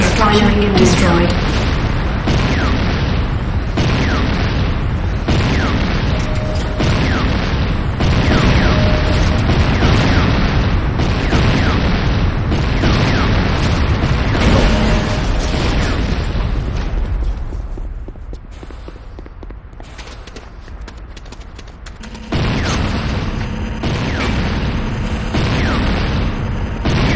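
Repeated booming blasts of buildings being destroyed in the Renegade video game, dense and loud throughout, with a brief drop in intensity before the explosions resume; game voice announcements play over them.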